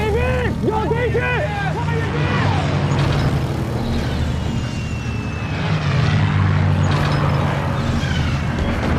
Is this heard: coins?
no